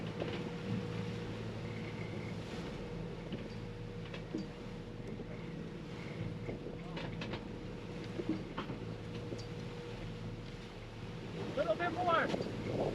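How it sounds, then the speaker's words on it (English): Strong wind roars and buffets steadily across a sailboat at sea during a Pacific crossing, with a constant low drone and rushing noise throughout. Faint voices sit underneath, and the gusts grow slightly louder near the end. "The wind was too strong and we had too much sail up, so it's time to put a reef in."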